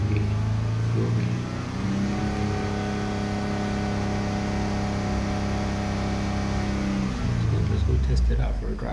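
Ford F-150 pickup engine revving steadily, a loud sustained drone with rising harmonics that dips and swells near the end, close and continuous.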